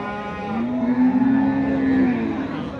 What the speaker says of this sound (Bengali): এই গরুটা খুব সুন্দর